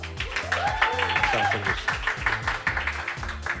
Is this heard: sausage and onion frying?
no